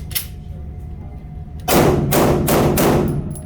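Gunfire at an indoor shooting range: after a quieter stretch, three or four loud, booming shots ring out in close succession, with faint voices in the background.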